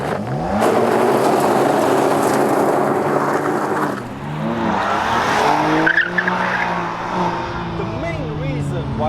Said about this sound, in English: I'm ready to launch the car up this fantastic piece of road